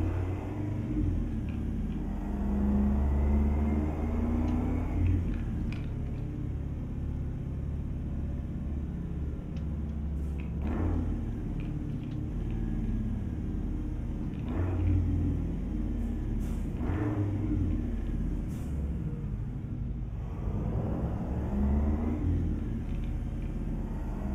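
A 1978 GMC Astro truck engine in American Truck Simulator rumbles low and steady, swelling through several accelerations with no talking over it.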